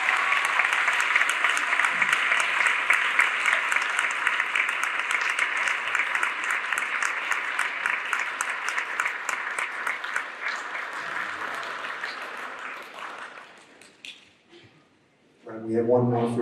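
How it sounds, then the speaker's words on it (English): Sustained, loud applause from a large audience at a band concert for about fourteen seconds, fading out before a voice begins speaking. "Thunderous applause for these incredible seniors"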